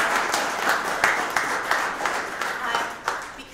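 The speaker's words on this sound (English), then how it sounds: "If we can give a round of applause for them." An event audience applauds its sponsors, giving steady, moderately loud clapping from a room full of people that carries on evenly without a break.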